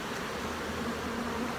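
Honeybees hum in a steady, close buzzing drone from an opened hive during a July inspection, continuous and even throughout.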